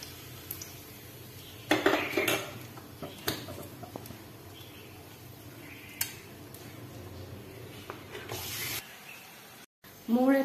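Vegetables frying in oil in a wok, a low sizzling hiss under repeated clinks and scrapes of utensils against the pan, heard up close at a modest level.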